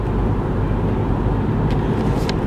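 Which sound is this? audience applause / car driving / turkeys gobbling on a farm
car driving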